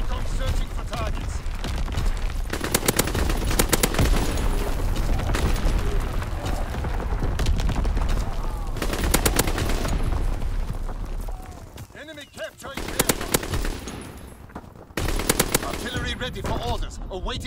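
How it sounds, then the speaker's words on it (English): An artillery battery firing in a video game, with dense bursts of loud booming shots and rattling gunfire in waves, a brief lull, then more volleys, under intermittent game voice callouts. "Firing primary battery."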